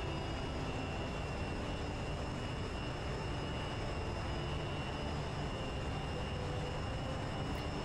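Su-27 Flanker jet engines spooling up in DCS World: a steady, loud, broadband roar with a faint high whine, holding constant with no voices.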